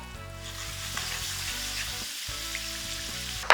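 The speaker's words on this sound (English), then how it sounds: "Double fry the potato for giving the crispy texture." Potato pieces hiss in hot oil during a second fry for crispness, giving a steady, even sizzle that stays close and constant, with a brief clatter at the end.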